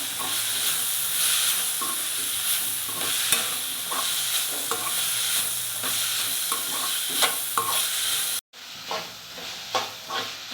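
Vegetables stirred in a hot pan with pepper powder and coriander leaves for veg fried rice, a steady close sizzle broken by regular scraping strokes of the spoon, then a brief cut and more stirring.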